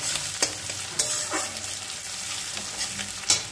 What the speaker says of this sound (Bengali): এবার পেঁয়াজটা একটু ভাজা ভাজা হোক।